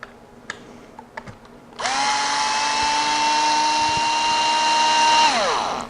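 A power driver set to reverse backs screws out of an RC car's front and rear end, a steady high motor whine holding for several seconds before winding down, after a few light clicks.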